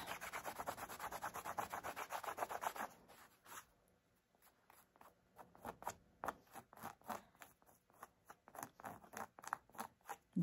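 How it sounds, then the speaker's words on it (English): Fast rhythmic rubbing of a scrap of fabric over glue residue on an oven mitt, steady scratchy strokes up close for a few seconds, then a pause and slower, spaced rubs resuming. "I usually just use a piece of scrap fabric that I don't really care too much about. Just kind of rub it."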